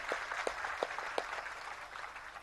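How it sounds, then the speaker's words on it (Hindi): Audience clapping in applause at a religious discourse gathering, a dense steady wash of hands with a few sharper claps standing out, moderately loud and continuous through the short stretch. "जोरदार उनके लिए ताली बजा के अभिनंदन।"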